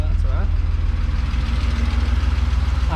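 An engine fitted to the Clapper idles a little high with a steady, rapid low thrum and faint knocking pulses, heard up close without pause.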